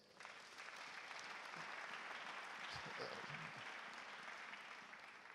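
A church congregation claps together in sustained, even applause that fills the room and keeps going from start to finish, with faint voices mixed underneath.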